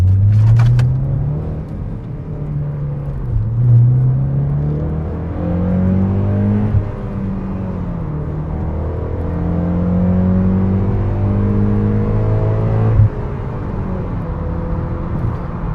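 A 9th-generation Honda Civic Si fitted with a Yonaka exhaust revs and pulls through the gears, its engine note climbing and dropping in steady sweeps with a deep, continuous drone close by, no talking over it.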